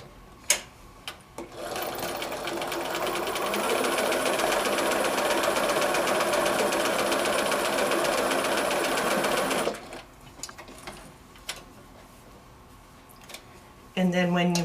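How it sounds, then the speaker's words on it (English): A sewing machine runs in one steady, fast stitching burst of about eight seconds while joining pre-cut quilt kit pieces, followed by quiet handling and a brief voice. "So I'm going to sew that."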